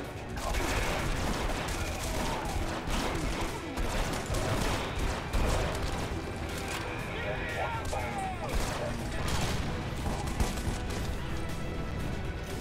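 Gunfire in the video game Red Faction Guerrilla Remastered, continuous rattling bursts and crashes at moderate loudness, with someone talking over the shooting.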